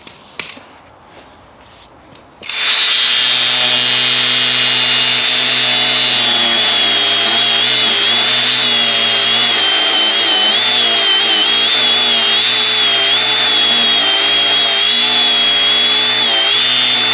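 After a few faint knocks, a power tool spins up and cuts into the metal chassis of a Toyota Hilux during repair, a loud, sustained high-pitched grinding whine with a wavering tone that runs unbroken to the end.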